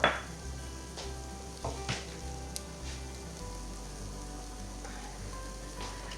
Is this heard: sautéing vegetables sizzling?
yes